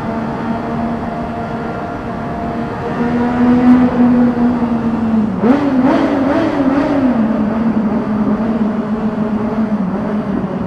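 A car accelerating through its gears inside a tunnel, a steady droning engine with a rising rev and a brief surge midway, booming and reverberant throughout.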